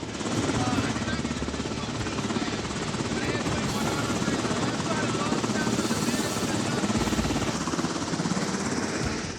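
Loud, continuous rotor thump and turbine roar of a Coast Guard rescue helicopter during an Alaska rescue, steady and close, with a voice faintly talking underneath.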